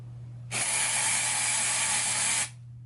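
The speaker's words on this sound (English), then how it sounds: "I'm just going to start by recording the sound of this spray bottle" A spray bottle releases one continuous hissing burst of about two seconds, loud and close, starting and stopping abruptly against a quiet background hum.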